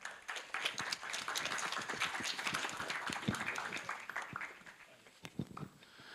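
Audience applause greets the dean of Korea University's business school as he comes up for a welcome address at a campus event. Steady, dense clapping from a crowd fills the room for about six seconds and thins slightly toward the end.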